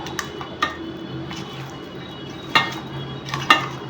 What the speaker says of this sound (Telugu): వీటిని కారం పట్టియాలి మంచిగా